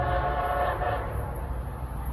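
Late-running Amtrak-style train 2152, Washington to Boston, arriving at a Boston-area station with a steady loud rumble of rail cars and a sustained horn tone, close and continuous throughout.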